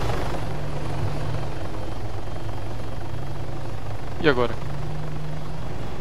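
A police helicopter's steady rotor drone in the game Arma 3 runs throughout at moderate volume, with a brief voice speaking briefly over it partway through.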